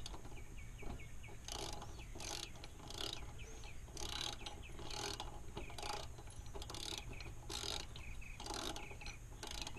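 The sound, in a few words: tightening bolts for a truck nerf bar install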